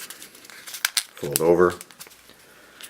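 Paper being folded and pinched into a tube for a 19th-century-style blank cartridge, making a short crinkling, rustling burst in the middle, with someone talking throughout.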